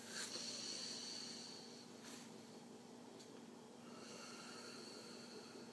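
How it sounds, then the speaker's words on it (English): A deep breath drawn in and let out close by, a soft airy rush that swells near the start and returns in fainter puffs over a steady low hiss. "Now take a deep breath again."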